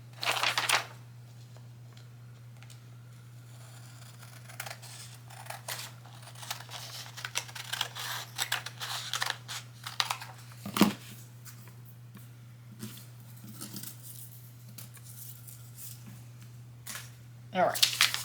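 Paper pattern pages printed from a PDF are trimmed with scissors along vertical and horizontal edges, giving close bursts of crisp snipping and paper rustle over a steady low electrical hum, with long quieter gaps between cuts.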